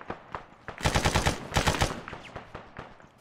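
Rapid bursts of automatic gunfire crackle through an ARMA firefight set in a Cold War era town, with several fast volleys clustered in the middle and scattered single shots around them, fairly close and loud.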